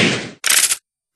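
Gunfire in a prison escape video game: a loud burst of rapid shots, then a short pause and a second bright, harsh burst, ending abruptly in silence.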